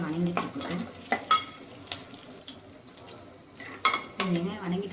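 Onions frying in a pan for a soya gravy curry, with a soft continuous sizzle under repeated scraping stir strokes and light clanks of a spoon against the pan, close by.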